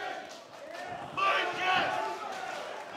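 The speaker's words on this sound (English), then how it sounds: "You hear the crowd get behind Lucas Miller again" A boxing crowd roars and cheers for Lucas Miller in his Australasian bout against Mitchell Clark, a broad swell of voices that rises and peaks in the middle, with shouts over a steady arena murmur.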